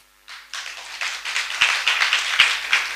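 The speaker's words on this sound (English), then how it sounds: "Can we give him a hearty clap?" An audience at a gathering of a veterinary medicine class of 1988 breaks into applause for a presenter, clapping starting abruptly after a brief silence and building into a steady, moderately loud patter of many hands.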